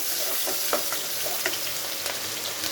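Onions frying in hot mustard-free cooking oil for a vegetable curry, a steady close sizzle with occasional louder crackles and stirring scrapes, no talking.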